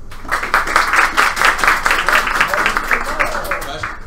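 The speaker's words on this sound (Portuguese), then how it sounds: "Palmas para o Condestável." Audience at a Brazilian book launch for a Tolkien novel clapping in a loud, close, continuous burst of rapid claps, with voices and cheers mixed in throughout.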